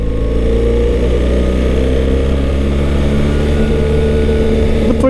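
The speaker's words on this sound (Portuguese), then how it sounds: "Este motor Boxer de facto é ruidoso, não é?" A 2025 BMW R1300 GS Adventure boxer-twin engine running loud and close, a steady low throbbing drone held evenly throughout with no talk over it.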